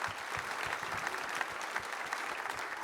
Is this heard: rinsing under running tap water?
no